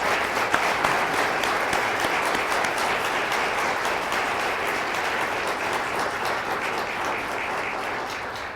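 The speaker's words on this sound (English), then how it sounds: "So please join me in a round of applause for our distinguished students." Sustained audience applause fills a symposium hall on genetics, dense steady clapping at even loudness for the whole stretch with no voices over it.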